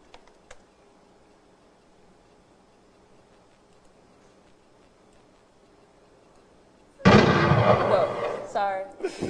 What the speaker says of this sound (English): My alert sound is a gunshot, so I'll just apologize for that.